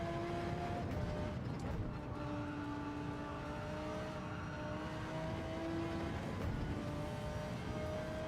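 A race car engine in the video game Gran Turismo 7 whines and revs continuously, pitch rising and falling through gear changes, steady and fairly loud.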